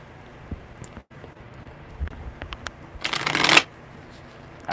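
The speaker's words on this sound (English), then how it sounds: "Actually, really good shuffles." Tarot cards shuffled by hand in a quick, close riffle lasting about half a second, rising out of a quiet room.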